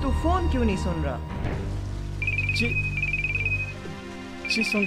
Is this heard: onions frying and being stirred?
no